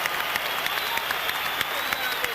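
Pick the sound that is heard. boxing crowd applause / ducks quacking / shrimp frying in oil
boxing crowd applause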